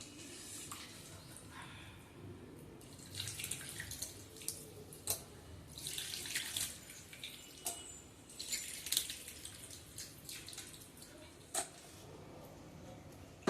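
Tamarind juice poured into an Andhra-style fish curry in the pot, heard as quiet, uneven splashing and trickling in several soft surges with occasional small drips and clinks.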